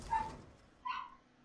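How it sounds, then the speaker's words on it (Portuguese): A dog gives two short yips or barks indoors, about a second apart, moderately near, with no talking over them. "Desculpa aí pelo latido do cachorro"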